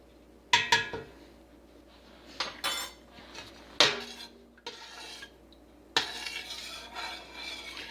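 A spoon stirs cold-process soap batter of tallow, warm oils, kaolin clay, honey and goat milk in a pot, giving a series of close scraping and clinking strokes in bursts with short pauses between.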